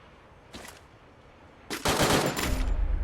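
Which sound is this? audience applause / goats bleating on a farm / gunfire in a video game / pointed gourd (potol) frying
gunfire in a video game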